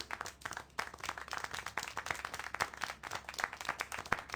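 Clapping applause in the video game Syberia: The World Before, a steady patter of many hands at moderate loudness with no voices.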